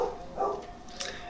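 Dogs bark in the background, a few short muffled yaps at moderate distance over a low room hum.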